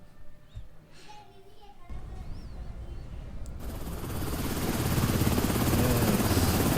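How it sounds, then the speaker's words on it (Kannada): A helicopter in the video game Quarantine Zone builds from a quiet start into a loud, steady rotor thrum that swells and fills the scene, with faint voices early on. "ಹೆಲಿಕಾಪ್ಟರ್ ಸೌಂಡ್ ಕೇಳ್ತದೆ."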